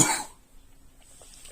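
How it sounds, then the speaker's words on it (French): A single short cough, close and sharp, followed by near silence. "Excusez-moi, je tousse encore"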